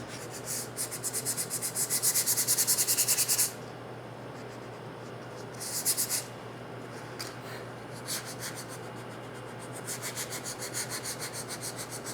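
A wooden dresser is scuff-sanded by hand around painter's tape, with rapid rhythmic back-and-forth rubbing strokes in bursts separated by pauses, close and fairly loud, without speech.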